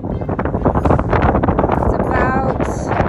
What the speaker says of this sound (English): you might not be able to hear me. It's kind of windy